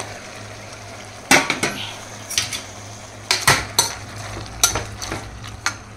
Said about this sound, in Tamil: நம்ம கறி கொட்டிக்கலாங்க.